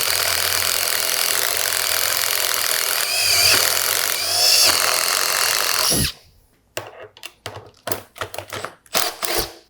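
A power drill bores into wood with a Diablo SpeedDemon self-feeding spade bit, a loud, steady close grinding whine for about six seconds, then it stops, followed by scattered clunks and knocks.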